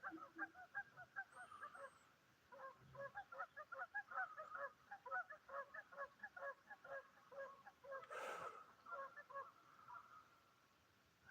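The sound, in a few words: geese honking on a lake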